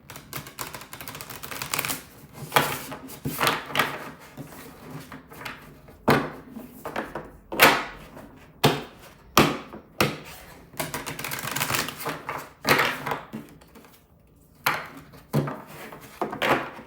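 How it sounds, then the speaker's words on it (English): Tarot cards being shuffled by hand, a steady run of crisp riffling and tapping bursts with brief pauses between them, close and fairly quiet with no voices. "So I was shuffling, 2 cards fell out."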